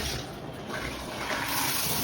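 Water sprays steadily from an INAVAMZ 2-in-1 hand-held shower head, a close, continuous hissing rush with no talking.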